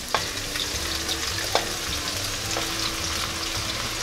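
Potatoes sizzling in hot oil for Antioquian fiambre with salt and pepper, a steady crackling fry with a few sharp scrapes of stirring in the pan, close and without voices.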